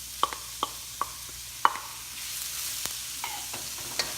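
Onions cooking in a pan for laing, a soft sizzle rising midway beneath several sharp utensil taps and clinks against the pan, spaced unevenly and close.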